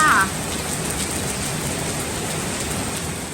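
Steady rain falling outdoors in rural Thailand, a continuous close hiss of drops on surfaces at moderate loudness, with a brief sharper sound at the very start and no talking.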